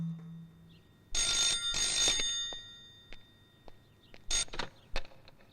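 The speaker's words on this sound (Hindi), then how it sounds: "फोन उठाइए पापा।" A telephone rings in two loud bursts of bright, repeated trilling near the start, then a few shorter ring fragments follow; a brief low hum precedes it and no one speaks.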